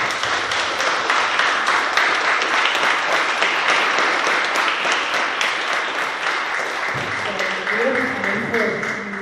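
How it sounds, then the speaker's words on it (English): A conference audience at a World IA Day panel in Los Angeles gives the panelists a sustained round of applause, dense and loud throughout, with voices mixed in toward the end. "So please give our amazing panelists a round of applause"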